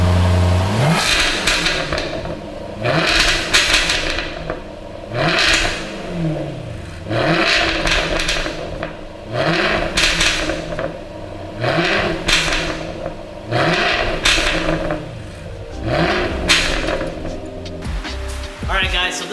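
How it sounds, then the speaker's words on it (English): 2017 Jaguar F-Type R AWD exhaust with the valves open revs repeatedly, loud rising and falling bursts roughly every two seconds, close and aggressive with a clattering edge between blips. "I hope y'all enjoyed the sound of the exhaust with the valves open and closed."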